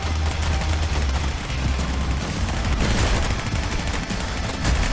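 Tommy gun fire in a Call of Duty–style video game plays as a dense, continuous burst of rapid automatic shots, loud and steady throughout.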